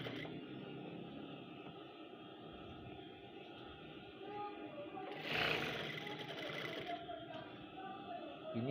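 A sewing machine runs steadily, stitching a loose, widely spaced temporary basting seam while fitting the waistband of men's trousers, its hum continuous throughout with a slightly louder burst midway.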